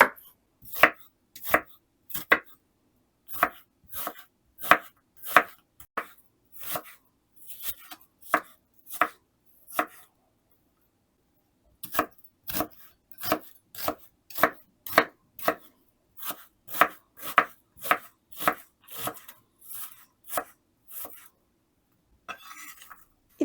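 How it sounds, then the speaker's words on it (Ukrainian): A knife dices onion rapidly and steadily on a cutting board, crisp close knocks in quick runs with a short pause midway. "Цибулю теж нарізаю кубиками."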